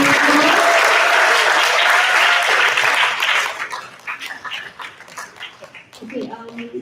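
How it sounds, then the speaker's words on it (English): Applause from an audience at an integrity talk swells loudly for about three seconds, then thins into scattered claps and fades, with people talking faintly toward the end. "So could you please give a round of applause to the"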